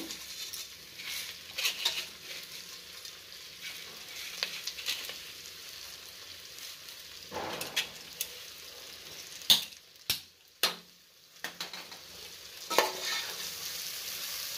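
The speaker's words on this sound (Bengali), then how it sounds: "তো চালটাকে দিয়ে আমি নাড়াচাড়া করব।" Soaked, drained rice stirred in a hot pan for paneer butter pulao, a steady low sizzle with scattered scraping strokes of a spoon and a few sharper clinks near the end, no talking.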